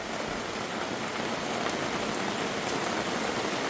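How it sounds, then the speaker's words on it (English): Light rain patters steadily on a campsite tarp, a soft continuous hiss of fine drops with no voices, evenly loud throughout. "On the radar, it's just a very thin stream of rain that's supposed to"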